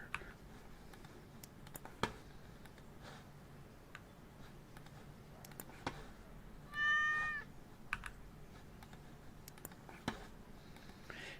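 A single short meow from a cat in the video game Exotica 2: Pet Shop Simulator stands out against a quiet background of sparse ticks and clicks.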